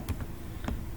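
A few sparse, quiet keypresses on a computer keyboard while entering chart data in Excel, spaced irregularly across a second with a faint background hum.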